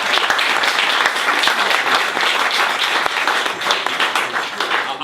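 Sustained audience applause at a celebration party, steady dense clapping from a crowd filling the whole stretch without pause.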